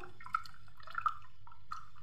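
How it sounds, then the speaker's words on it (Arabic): Warm water poured into tahini in a bowl, a few close, light dripping and trickling plinks spread over a quiet background, with no talking. "نحط المية. المية دي دافية، مش بتغلي ولا باردة، لا مية دافية."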